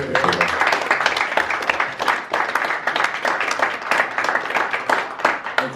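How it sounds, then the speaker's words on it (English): Sustained applause from a crowd, dense and fairly loud, with scattered voices mixed in among the clapping. "So a huge round of applause."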